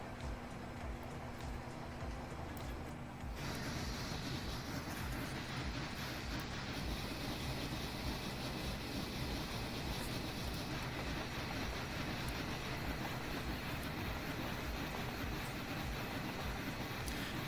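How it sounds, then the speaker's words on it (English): Boxcars on a freight train in Train Simulator Classic roll along the rails with a steady rumble and rhythmic clickety-clack, continuous and fairly loud, with no talking. "I love that clack sound the boxcars make."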